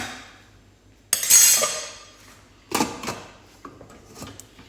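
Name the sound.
pressure cooker placed on the stove and lid closed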